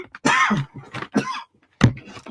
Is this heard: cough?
yes